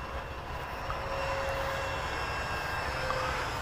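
A Freewing F9 Panther RC jet flies overhead during a morning flight, its ducted-fan engine giving a steady, smooth whine with constant loudness from a moderate distance and no talk.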